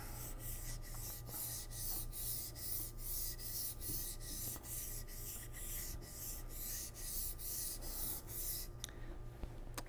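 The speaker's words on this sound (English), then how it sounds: "on the next stone, which is the medium stone. So I'm going to continue sharpening this as a single bevel knife" A single-bevel boning knife is sharpened flat on its back against a medium whetstone, making a rhythmic scraping rasp of steady, evenly spaced strokes that stops near the end, with no voices.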